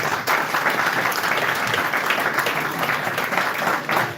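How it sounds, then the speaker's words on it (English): An audience at an academic institution meeting gives a student a round of applause, a dense and steady clapping crowd sustained for several seconds, heard alone without talk. "Can we give her a round of applause?"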